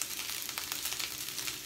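Stir fry sizzles steadily in a hot pan, a dense continuous hiss with small crackling pops throughout, close and fairly loud with no voices.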